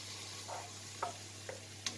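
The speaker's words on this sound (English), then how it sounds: "I'm just really going to sear the fish" Fish searing in a hot pan gives a faint, steady sizzle over a low hum, with a few soft clicks and taps from the pan.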